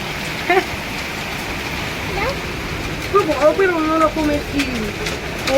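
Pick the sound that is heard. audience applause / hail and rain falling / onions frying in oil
hail and rain falling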